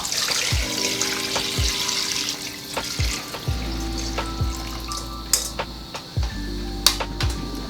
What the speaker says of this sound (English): We're gonna add water, clean water.